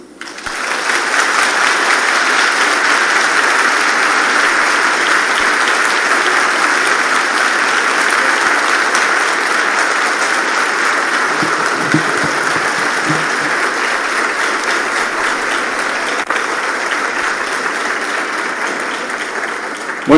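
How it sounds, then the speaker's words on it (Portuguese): An audience applauding Ana Guimarães at a Spiritist gathering, with sustained, dense clapping from a large crowd that carries on loud and steady for about twenty seconds. "Estava aplaudindo Ana Guimarães."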